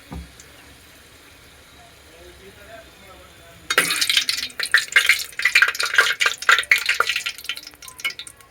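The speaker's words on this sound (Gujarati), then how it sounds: "હવે આપણું તેલ આવી ગયું છે, એમાં આપણે લવિંગ, બાજરા અને મરચાં નાખી દેવાનું આ રીતનું।" Cloves, millet and green chilies hit hot oil in a home kitchen pan, bursting into a loud, crackling sizzle after a quiet start, with sharp pops and spatters continuing steadily.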